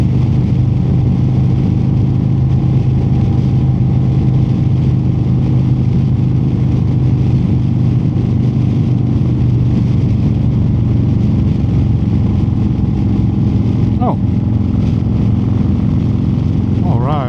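Cammed and tuned 2025 Harley-Davidson Road Glide pulling hard in fourth gear, a steady deep engine drone with wind rush filling the whole stretch, a brief higher whine near the end.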